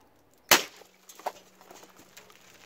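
A single sharp impact crack from an Evanix MAX-ML bullpup PCP air rifle pellet striking a row of cups, followed by faint scattered ticks and rattles of debris settling nearby; no voices.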